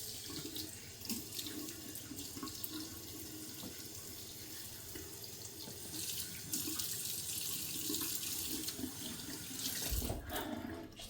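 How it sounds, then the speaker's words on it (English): Water runs steadily from a tap and splashes while a face is rinsed between shaving passes, a faint continuous hiss that swells slightly toward the end. "Adding some more water to the face between passes."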